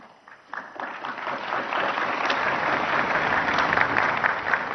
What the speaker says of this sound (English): Notice the polite claps too.